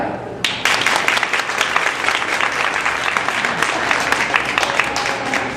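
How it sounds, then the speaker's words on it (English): An audience claps lightly but steadily during a horse demonstration, a continuous patter of many hands starting abruptly and holding at an even level. "I want you to clap lightly and go"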